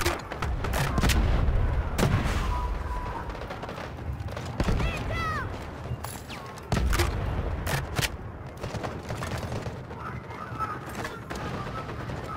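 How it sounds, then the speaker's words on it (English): Gunfire and a grenade explosion crack and boom repeatedly in the Delta Force video game, sharp loud shots scattered across a noisy battlefield, with voices calling out under the fire. "Grenade!"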